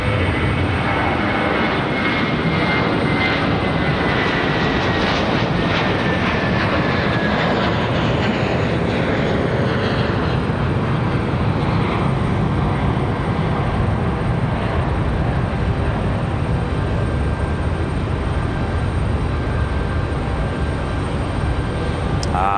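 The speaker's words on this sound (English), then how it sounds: "Here's our A321 off to DFW" An Airbus A321 airliner departing Raleigh-Durham International for Dallas Fort Worth roars loudly and steadily throughout, its engine pitch gradually shifting as it climbs away, with no talk.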